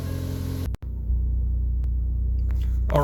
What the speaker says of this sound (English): now that the car's up and running